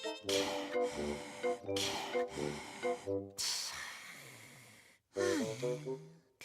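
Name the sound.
heavy breathing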